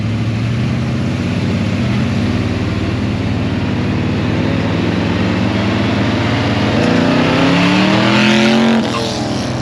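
A Ford XY GT Phase 3 HO engine drones steadily and loudly, then revs and climbs in pitch toward the end as the car drives off, with no talking.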